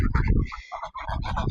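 Chickens cluck in short, throaty bursts, fairly close, with a brief lull partway through before the clucking picks up again.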